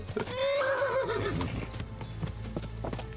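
A horse in the Kingdom Come Deliverance video game gives a loud whinny over clip-clopping hooves, followed by a few scattered hoof steps and snorts.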